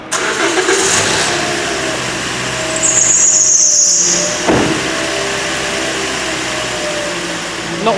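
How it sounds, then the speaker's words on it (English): A Toyota Auris engine runs at idle after a water pump replacement, with a sharp high belt squeal from antifreeze left on the belt rising for about a second before settling into a steady engine hum. "Not worried about that squeal. That's a bit of antifreeze that was still on the belt."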